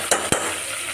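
Cauliflower, capsicum and potato cook in hot oil with a steady, close sizzle, broken by two quick stirring scrapes near the start.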